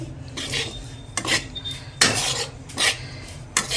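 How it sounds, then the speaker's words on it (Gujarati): Coarse urad flour roasting slowly in a pan for adadiya pak, with a spoon scraping and clinking against the metal in repeated bursts, near and fairly quiet, with no talk. "અડદનો કકરો લોટ આ ધીમા શેકે સરસ એવો લોટ શેકી દઈશું આપણે"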